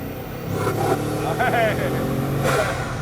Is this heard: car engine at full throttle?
yes